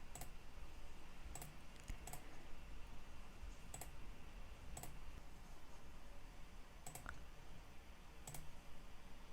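A computer mouse clicks several times during work in simulation software, with crisp, isolated clicks including a quick double click, set against a steady hiss of background noise with no talking.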